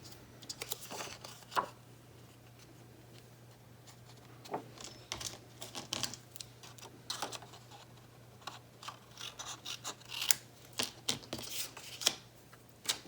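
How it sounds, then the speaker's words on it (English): Scissors snip through paper while making Christmas junk journal embellishments. Soft, irregular cuts and rustles sound close but faint, with quiet handling noises between them. "Let me just cut some of this off and then turn it around."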